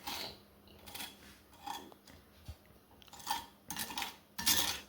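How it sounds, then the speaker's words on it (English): A knife spreads butter on homemade toast in a series of short scraping strokes and light clinks against a plate, coming in irregular bursts close by. "butter your toast and then put the scrambled eggs on it? Yeah. Okay, and give your butter a spread"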